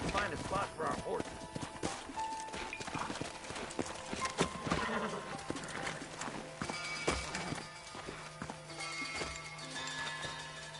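Horse hooves clip-clop across ground in Red Dead Redemption, several animals walking then slowing, with a horse whinnying and people talking over the rhythmic hoofbeats.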